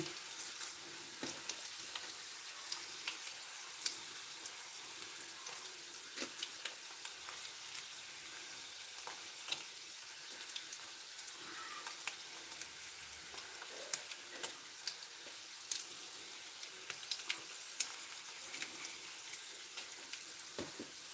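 Garlic cloves and dried red chillies frying in oil for a tamarind chutney make a faint, steady crackle peppered with small pops throughout, with no talking.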